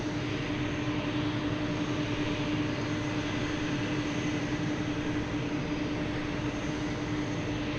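A Boeing 767 jet at Lisbon Airport produces a steady, loud engine roar with a constant whine, sustained evenly throughout with no voices.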